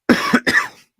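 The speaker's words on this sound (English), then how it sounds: "Sorry, I got a cough." Two rough coughs in quick succession, close and fairly loud, the second burst longer and trailing off.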